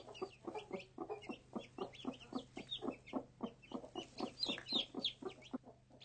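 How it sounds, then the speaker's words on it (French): A hen with newly hatched chicks, rapid high-pitched chick peeps and cries coming in a steady stream over softer clucking, fairly close and moderately loud, with no talking. "Quelques petits cris aigus annoncent enfin la sortie des poussins."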